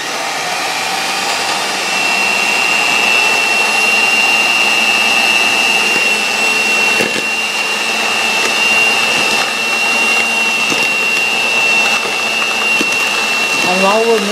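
An electric mixer whirs steadily, mixing chocolate chip cookie dough in a home kitchen, making a continuous loud motor drone with a high whine that runs almost the whole time.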